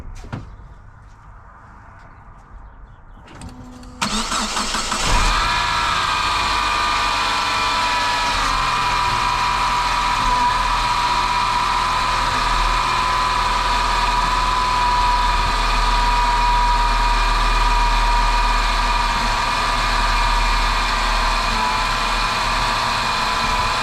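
A Saab 9-5 Aero engine starts and settles into a steady idle, with a continuous whine from the drive belt running over the engine hum. It is loud and close, with no voices.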